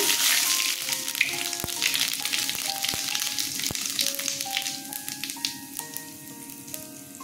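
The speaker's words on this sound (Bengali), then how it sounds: "তেল গরম হয়ে গেছে, শুকনো লঙ্কা তেজপাতা ফোড়নে দিয়ে দিলাম, জিরে দিলাম" Dried chilli, bay leaf and cumin crackle and sizzle steadily in hot oil, a close, dense hiss with scattered pops that carries on unbroken throughout.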